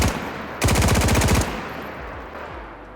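Rapid automatic fire from a 7.62 AK rifle in DayZ, a tight burst of closely spaced shots lasting under a second, loud and close, followed by a fading echoing tail.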